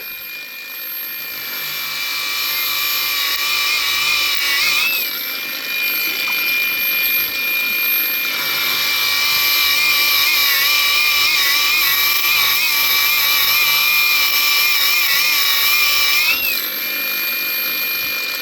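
An angle grinder run with water grinds into a meteorite, a loud continuous high whine with a steady pitch that dips and wavers under load and briefly eases a couple of times, with no voices.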